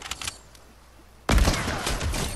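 A hunting rifle fires in Fortnite with one sudden, loud crack after a quiet moment, followed by a sustained noisy tail of echo and game sounds.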